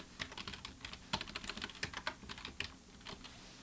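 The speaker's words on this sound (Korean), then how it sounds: "텍스트를 입력할 수 있는 상자가 나타나면 텍스트는 플랜지라고 입력하도록 하겠습니다" Fingers tap on a computer keyboard in quick, uneven bursts of light clicks, close and quiet, with no voices over them.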